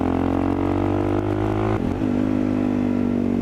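A supermoto motorcycle engine runs loud and close in a steady, throbbing drone, briefly dipping and then recovering before it settles back into an even rev.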